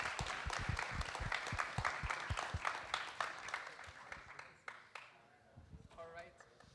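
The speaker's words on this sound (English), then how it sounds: "Give it a big round of applause for all the three guests." An audience at a student club info session gives a round of applause for three guests, with sharp, brisk claps that thin out and fade, followed by a voice starting to speak near the end.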